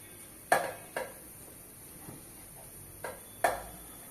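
Chicken 65 being mixed with food colouring and salt, giving a few sharp clinks and knocks against the bowl, two close together, a pause, then two more, over a quiet background.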